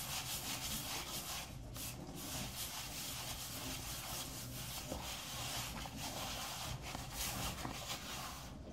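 Leftover whole-wheat flour being scraped off a work surface while making pan pizza, a close, continuous rough rubbing and scraping in repeated strokes with no talking.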